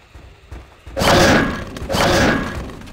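In the Trespasser game, a rock thrown at a raptor bounces off it, giving two heavy, close thuds about a second apart over quiet background.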